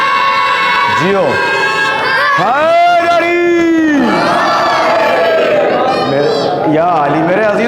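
A crowd at a Shia majlis gathering in an imambargah chants a religious slogan, with loud unison calls rising and falling in waves and overlapping voices throughout.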